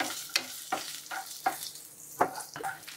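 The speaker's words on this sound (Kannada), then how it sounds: "ಒಂದು ಸ್ಪೂನ್ ಅಷ್ಟು ತುಪ್ಪ ತಗೋತೀನಿ, ಮುಷ್ಟಿಯಷ್ಟು ಸೋಯಾ, ಹಾಗೇನೆ ಪನ್ನೀರ್ನ ಮೊದಲಿಗೆ ಫ್ರೈ ಮಾಡ್ಕೊಂಡ್ಬಿಡ್ತೀನಿ" Soya chunks and paneer fry in a spoonful of ghee in a pan, a soft steady sizzle broken by several sharp scrapes and clinks as a spoon stirs at regular intervals.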